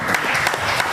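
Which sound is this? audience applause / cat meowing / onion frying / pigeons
audience applause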